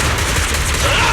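Dense, continuous rapid gunfire in the game Zenless Zone Zero, a loud unbroken crackle of shots filling the whole short moment without pauses.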